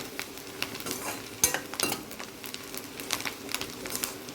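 Ingredients fry in a pan for Nellore fish curry, a soft steady sizzle broken by scattered clinks and scrapes of a spoon stirring against the pan, close and moderately quiet.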